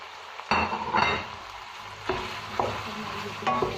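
Ginger and green chilies fry and get stirred into a chicken karahi, producing a sizzling hiss with five or so sharp bursts as the spatula scrapes through the pan.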